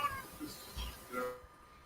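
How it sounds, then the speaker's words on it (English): A cat meows a few times in short, moderately close calls, heard over a noisy background in a room where people are chatting online. "Who's got a cat?"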